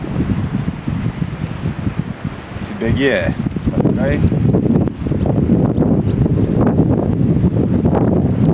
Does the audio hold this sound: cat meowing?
no